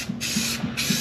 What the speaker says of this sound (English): you spray this on just like paint